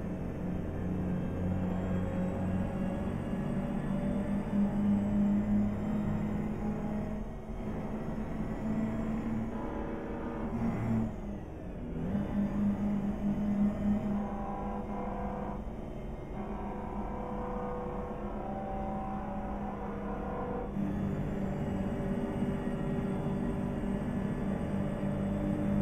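A truck engine in American Truck Simulator drones at full throttle with a steady low rumble and harsh buzzing harmonics, dipping briefly midway before pulling hard again.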